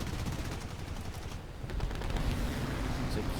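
Four nose-mounted Hispano cannons on a fighter aircraft fire in a flight combat game, a dense, rapid stream of heavy shots that dips briefly midway, then resumes under a faint voice.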